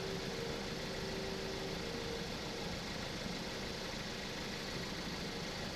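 A 2017 Ford Focus engine idles roughly and seems ready to stall, a steady close mechanical drone with no voices present.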